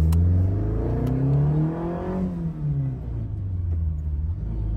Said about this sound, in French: C'est l'accélération.